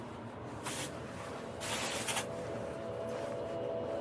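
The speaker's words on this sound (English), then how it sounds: "Gonna put in this volume and matte" Two short hissing bursts of volume and matte hair texture spray from an aerosol can, the second longer and slightly broken, over a steady low background hum.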